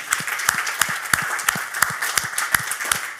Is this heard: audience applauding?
yes